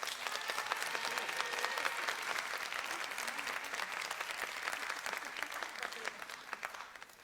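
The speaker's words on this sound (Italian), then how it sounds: "quando vi darò il via partirete con l'applauso." Sustained audience applause in a Neapolitan talent-show setting, breaking out on cue and holding steady as dense, even clapping for about seven seconds before tapering slightly at the end.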